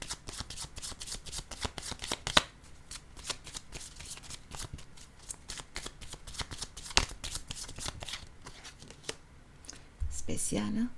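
Oracle cards are shuffled and drawn with repeated crisp riffling flutters and sharp slaps, close and fairly loud, while a voice talks quietly in between.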